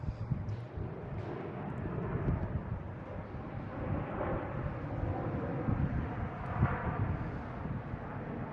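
Jet airliners coming in to land at Boston Logan International Airport, heard as a low, steady, distant rumble and roar that swells gently, with wind noise on the microphone and no talk.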